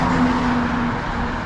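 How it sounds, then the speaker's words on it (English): A fire truck passing along a city street in Lewiston, Maine, its engine and road roar loud and close, swelling then easing off as it goes by, with a faint tonal whine early on. "There's the fire truck."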